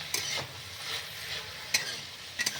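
Flat beans and spinach dry-frying in a pan over a high flame, a soft continuous sizzle broken by a few sharp scraping stirs of the spatula, close and fairly quiet.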